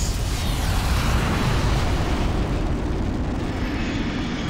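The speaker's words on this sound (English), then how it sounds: "I'm gonna bomb Caesar because fuck him." A bomb explodes on Caesar's Legion in the video game Fallout: New Vegas, Lonesome Road, producing a loud, sustained, rumbling roar of blast noise that fills the whole moment without any voices.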